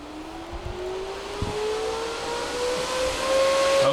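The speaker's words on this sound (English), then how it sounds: "It looks like all of our fans are spinning, right?" Octominer mining rig booting up with its fans spinning: a steady whooshing fan roar that builds slowly, with a rising whine running through it and a few small knocks near the start.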